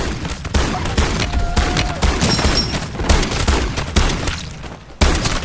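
Gunfire in the zombies mode of a Modern Warfare game, heavy shotgun blasts mixed with rapid bursts, booming repeatedly and close amid constant combat noise.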